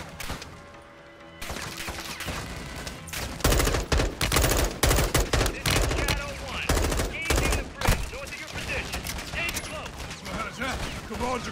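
Call of Duty: Modern Warfare II combat on a bridge against armored troops: dense bursts of automatic gunfire and single shots crackle loudly and repeatedly, with shouted dialogue mixed in.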